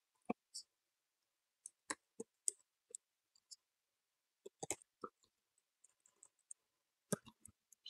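Quick sentence typed on a computer keyboard, heard as sparse, faint, close key clicks arriving in short bursts separated by silent pauses.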